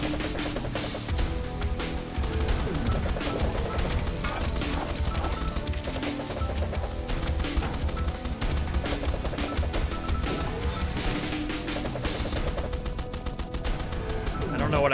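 A railgun in the Swarm Grinder video game fires amid a dense, constant barrage of rapid gunfire and crashing impacts that lasts the whole stretch at a steady, loud level, with faint talk now and then.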